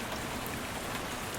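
Heavy, steady rain downpour pouring through a derelict building, a dense constant hiss of water with no break and no voices.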